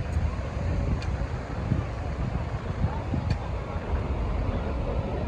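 Sea water roaring at the Karachi seafront as a continuous low rumble of surf mixed with wind buffeting the microphone, with no clear break throughout.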